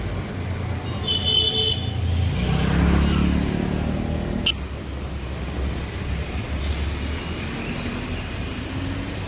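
A car speeds along a road through rural Maharashtra, its engine and road roar steady and fairly close, with a brief horn toot near the start and a sharp passing rush midway.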